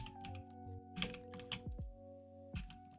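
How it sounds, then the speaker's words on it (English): Typing on a computer keyboard, a quick cluster of soft key taps and thunks, close and quiet over a faint electrical hum, with no talking. "And then we type N."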